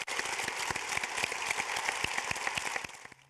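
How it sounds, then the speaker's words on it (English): An audience at a journalism hall of fame event gives a round of applause, dense steady clapping from a moderate distance that fades out at the end. "A nice round of applause for all of them again,"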